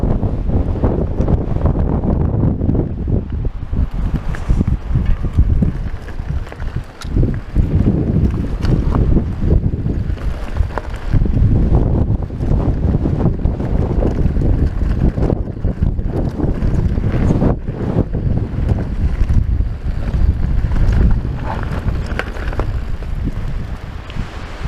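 Strong wind on the Upper Showgirl mountain trail at Mt. Charleston, Nevada, under an extreme wind warning: loud, continuous roaring gusts buffet the microphone, a dense rumbling rush that barely lets up for the whole stretch.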